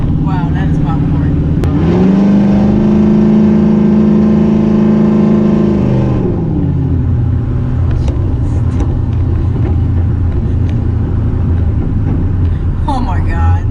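Modified Camaro SS exhaust revving up loud and close, holding a steady roar, then dropping off into crackles and pops, with voices talking over it.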